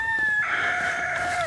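A rooster in a farm flock crows loudly and close, one long sustained call lasting over a second, with no talk.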